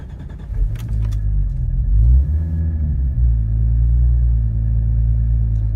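A Nissan Patrol Super Safari engine idles and revs steadily up close, a deep continuous rumble with a brief rise in pitch midway.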